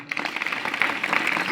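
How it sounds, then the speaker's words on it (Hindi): An audience in a village gathering claps for a child's handmade flower bouquet, a brief patter of applause of modest loudness mixed with faint voices. "इसके लिए ताली बजाओ"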